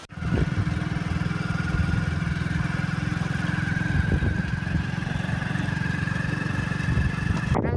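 A motorcycle ridden on a road near a desert salt-farming area in Gujarat, its engine droning loud and steady up close for the whole stretch, with wind rush and a slight rise in pitch along the way.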